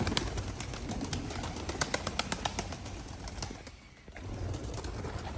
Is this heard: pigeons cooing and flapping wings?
yes